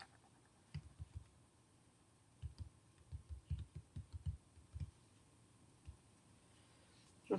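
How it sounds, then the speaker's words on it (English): Keyboard keys clicking in irregular bursts of typing, close by and fairly quiet, with short pauses between runs of keystrokes. "being able to type."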